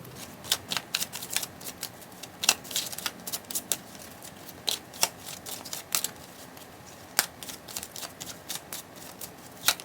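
Tarot cards are shuffled by hand in a steady series of crisp riffling flicks and soft slaps, close and fairly quiet, with no talking.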